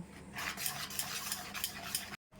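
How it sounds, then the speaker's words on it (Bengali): Yogurt is stirred into a flour batter for jalebi in a bowl, making soft, wet, rhythmic mixing strokes that stop abruptly near the end. "আর 1 চামচ দই দিয়ে দিচ্ছি। এটাকে ভালোভাবে মিশিয়ে নেব।"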